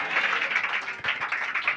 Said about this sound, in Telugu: చప్పట్లు కొడుతూ ఆమె చెప్పండి